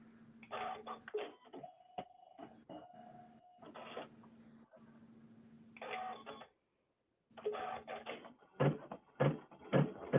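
A home embroidery machine sews a placement stitch for the center of a sunflower appliqué, giving a close, rapid mechanical whirring and clatter in bursts with a steady hum and short pauses between runs.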